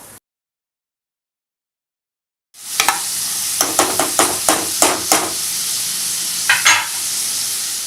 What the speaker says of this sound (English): That is the time now we are going to add the cut onions into it.